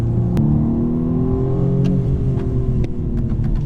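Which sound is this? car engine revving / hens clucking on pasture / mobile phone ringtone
car engine revving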